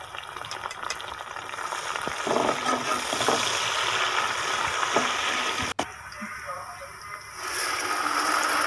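Chopped onions frying in a pan for chana dal biryani and being stirred with a spoon, giving a steady close sizzle broken by scraping. A sharp knock comes near the end, and a voice talks faintly underneath.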